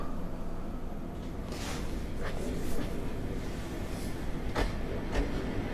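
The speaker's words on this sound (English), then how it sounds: "Y'all can hear the train going?" A moving train from a horror short film gives a continuous low rumble, with a few sharp metallic clanks and rattles scattered over the steady noise.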